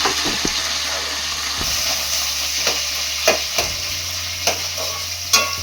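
Paneer masala with mint and coriander fries in a pan, giving a steady close sizzle broken by repeated scraping stirs and a few louder clatters, with no talking.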